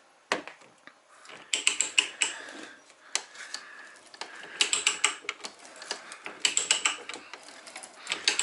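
Loud, close ratcheting clicks come in uneven bursts as a pipe threader cuts threads on oiled 3/4-inch black pipe, with brief pauses between strokes.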